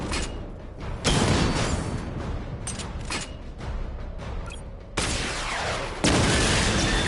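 A missile barrage fires in a video game, dense bursts of crackling blasts and booms that surge in several loud waves over a continuous rumbling roar, no talking.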